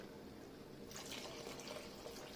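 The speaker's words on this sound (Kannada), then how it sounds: "ಈಗ ನಾನಿಲ್ಲಿ ಮೂರು ಸ್ಪೂನಷ್ಟು ಕಾರ್ನ್ಫ್ಲವರನ್ನು ನೀರಿನಲ್ಲಿ ಮಿಕ್ಸ್ ಮಾಡಿ ಸೇರಿಸ್ತಾ ಇದ್ದೀನಿ ಇಲ್ಲಿ" Cornflour slurry mixed with water is poured into a pot of soup noodles, making a steady soft liquid trickle and splash that grows brighter after the first second, close by with no talk.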